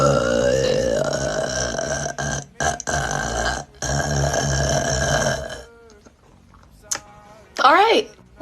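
Close, loud belching from a woman who has been drinking Montucky beer: a long drawn-out burp, several shorter broken ones, then a couple of small quick burps near the end, alone without speech.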